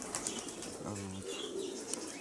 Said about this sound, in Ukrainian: голуби. Літають. Літають.